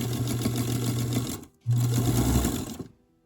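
A sewing machine stitches through fabric scraps in two steady, loud runs of continuous whirring, with a brief stop in between; no one talks.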